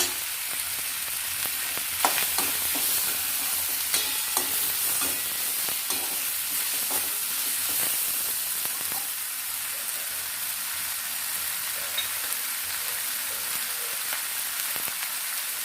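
Cinnamon and cloves fry in hot oil in a pan for a spicy groundnut and potato sambar, giving a steady, close crackling sizzle with occasional sharper pops and stirring scrapes, with no talking.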